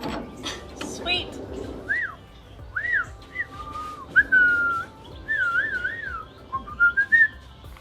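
A person whistles in a workshop, producing a series of short, bright rising and falling notes over clanks and handling noise, with some speech mixed in.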